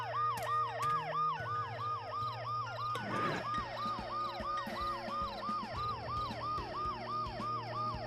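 An ambulance siren wails in the video game Dead Synchronicity, its rising and falling tone cycling rapidly and continuously, loud and close, over a steady low hum and a brief burst of clatter midway.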